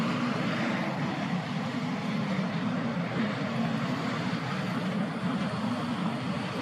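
An airplane passes overhead, a steady broad engine roar at moderate distance, sustained and even with no talk.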